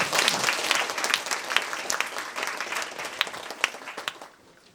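A lecture audience at Yubong Girls' High School applauds the instructor, a dense wash of many hands clapping steadily throughout, fairly near, with a few sharper individual claps standing out before it thins and fades at the end.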